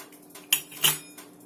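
A knife cuts a piece of bread in half on a plate or board, giving two short, sharp clicks of the blade against the surface with faint rustling between them and no one talking.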